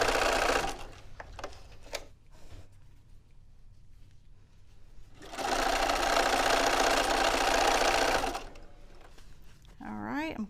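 A sewing machine stitches a quilt seam in two bursts, a short run early and a steady, louder run in the middle, with quiet handling between and a brief voice at the end.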